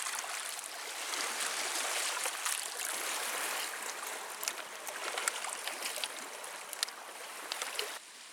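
Water squeezed through a Sawyer Squeeze filter from an Evernew bag at a lakeside camp, a continuous trickling splash with small irregular drips and gurgles, close by, easing off near the end.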